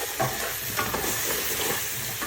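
Food being stirred in a cooking pot, with soft scraping strokes over a light, steady sizzle, close and moderately loud with no talking.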